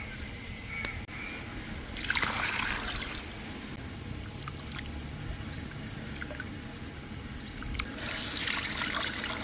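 Rice being rinsed in water in a home kitchen, a soft continuous trickle and slosh with a few louder swishes, steady and close, with no talk.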